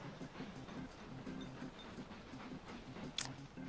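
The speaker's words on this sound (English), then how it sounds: "I'm going to wait until this train goes, because if I send it out now, it will crash into something" A train departing in the Mashinky railway-building video game: a faint, steady rumble of moving rail wagons with soft rhythmic clicks and a brief sharp tick near the end, quiet and without voices.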